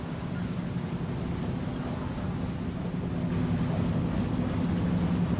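A steady low ferry engine drone rumbles continuously in Farming Simulator 25, with washing water and wind noise over it and no voices.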